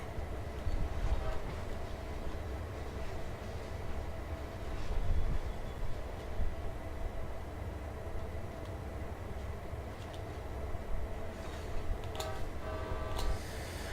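A locomotive running on rails in a train video game, heard as a steady rumble with rattling and clanking throughout and a few sharper metallic clicks near the end.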